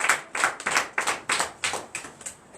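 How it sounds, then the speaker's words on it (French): Congregation in church at a night service of deliverance and prophecy clapping in a brisk, steady rhythm, each clap crisp and close, with no cheering or talk standing out. "Donnez encore l'acclamation à Jésus."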